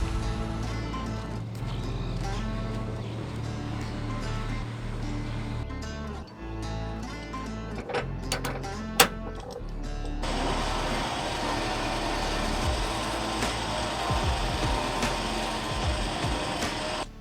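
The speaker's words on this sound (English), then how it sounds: "we're gonna pull it up the hill by its own weight with the winch" An OPENROAD 13,000 lb Panther Series 2S electric winch pulls a vehicle up a hill, giving a steady tonal motor whine that shifts to a harsher, busier drone midway, with a sharp clank partway through.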